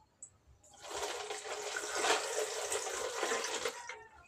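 Water is poured from a container onto ice for a gin, soft drink and milk mix, a continuous splashing gush of several seconds after a brief clink, fairly close and unaccompanied by talk.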